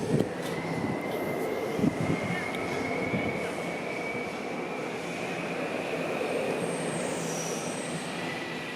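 A train rumbles steadily past nearby in a park ravine in Toronto, a continuous heavy roar with a thin high wheel squeal running through it for several seconds.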